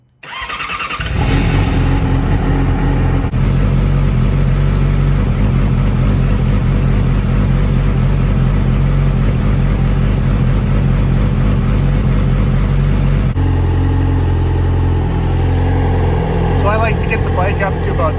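Yamaha R6 sport motorcycle cranking briefly and then catching, settling into a steady, close warm-up idle that holds for many seconds with a slight shift in pitch partway through.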